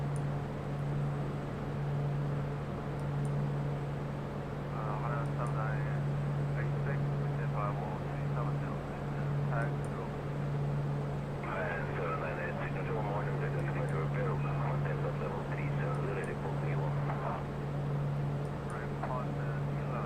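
A Lockheed Super Constellation 1049G propeller airliner in a flight simulator, a steady droning engine hum with a low tonal buzz running throughout, while someone talks over it.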